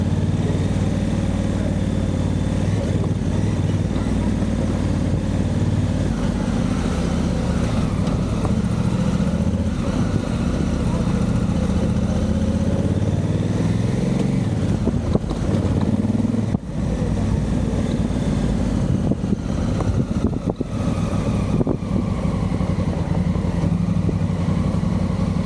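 A motorcycle ridden along a road between Yeniçiftlik and Silivri, its engine droning continuously and loudly with heavy wind rush, small shifts in pitch and a few brief dips as it travels, no talk.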